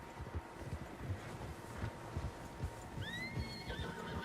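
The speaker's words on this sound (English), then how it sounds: "Horses, quite a few of them." Horses in Red Dead Redemption 2 whinny over a steady outdoor wind, with soft hoof clops underneath; a high neigh rises clearly toward the end.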